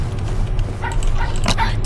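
Puppies in the Pacify video game give a few soft, high whimpers and yips over a constant low game hum, short and close.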